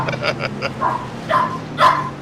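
A puppy lets out a run of short, high yips and barks, several quick ones then louder spaced barks, close and alone after knocking on an imitation wood desk.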